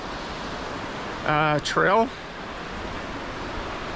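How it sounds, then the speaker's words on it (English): Steady, broad rushing roar of a waterfall pouring off a mountain, full and constant throughout, with a person briefly speaking over it partway through. "It's just also amazing how much water's flowing off the mountain."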